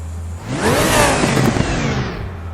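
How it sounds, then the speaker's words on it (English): A race car in the RaceRoom video game, driven with a Logitech G29 wheel, fires up with a rising whoosh and a revving engine tone that swells over about a second, then settles into a steady idle hum. "I push down the D-pad, you hear that little noise, and then I push up, now the car started."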